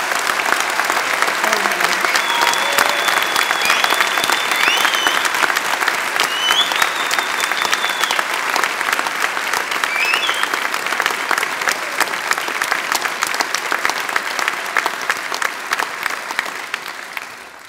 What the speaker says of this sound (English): big cheer and round of applause.